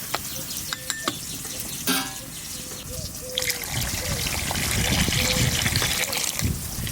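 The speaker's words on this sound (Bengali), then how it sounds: "আর একটু দেব জল" More water trickles into a pot of browned goat (mutton) curry with ground spices and spring onions, a soft uneven dribble with sizzling beneath, a few short clinks, and faint voices in the background.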